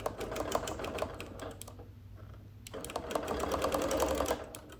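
A sewing machine stitches a quilt border on a sampler quilt, close rapid needle chatter in short runs with a brief pause in the middle before resuming.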